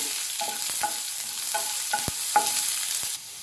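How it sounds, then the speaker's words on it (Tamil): Shallots, green chillies and curry leaves frying in a pan for beetroot poriyal: a continuous close sizzle punctuated by several sharp spoon-on-pan clanks from stirring, with no talking. "சின்ன வெங்காயம் சேர்த்துக்கலாம். அது கூடவே பச்சை மிளகாயும் சேர்த்துருங்க. இப்போ இது நல்லா ஃப்ரை பண்ணிடுங்க."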